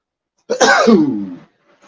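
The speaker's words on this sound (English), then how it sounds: "I gotta sneeze again." A single loud, close sneeze bursts out and trails off, with silence before and after.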